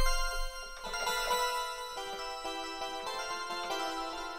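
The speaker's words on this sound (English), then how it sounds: "I'm using Wave Station, whatever this sound is, swirling eddies." Wave Station synth patch named Swirling Eddies, a shimmering, bell-like tone with sustained harmonics and repeated soft chime notes over a low pulse, steady and clear with no voices, played for a trap beat.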